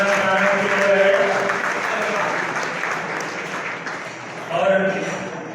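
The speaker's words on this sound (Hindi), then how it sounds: "जब तक उद्घाटन नहीं होता तब तक तालियां बजती रहनी चाहिए।" Sustained crowd applause fills a Chero tribal community gathering, loud and continuous, with a brief swell near the end, while someone speaks over a PA system above the clapping.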